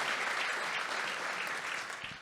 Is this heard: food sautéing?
no